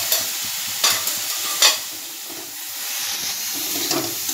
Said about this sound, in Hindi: मैंने अच्छा से सब मसाला मिला लिया, इसे मैं एक मिनट मिलाऊंगी